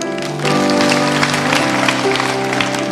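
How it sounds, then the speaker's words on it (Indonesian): Church congregation clapping in praise, a moderate wash of applause rising after a brief pause and running beneath sustained instrumental music tones. "kasih tepuk tangan untuk Tuhan"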